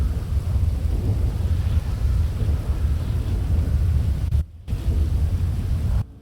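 Rolling thunder and heavy rain from a thunderstorm in the FiveM game, a loud continuous rumble filling the whole stretch and cut off abruptly by two brief drops into silence near the end, with no voices.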